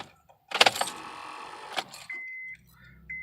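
2005 Honda Accord failing to start: a burst of rapid clicking and buzzing from the car for about a second, ending with a sharp click, followed by quiet electronic chimes, close and indoors-quiet.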